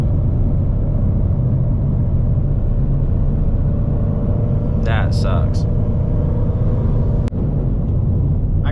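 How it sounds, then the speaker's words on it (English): A twin-turbo Ford Mustang's engine hums low and steady while driving, a constant, fairly subdued road rumble under brief talk from the driver. "I kind of wish this car was a little bit louder."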